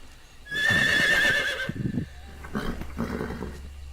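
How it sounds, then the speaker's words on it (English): A horse in the video game Metal Gear Solid Delta gives a loud, shrill whinny up close, followed by snorting and shuffling hoof sounds. "It's just a random horse."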